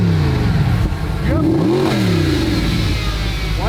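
A 622-horsepower supercar's engine revs up and falls back in a loud, close, wavering snarl, with possible exhaust pops. Voices are heard over the engine.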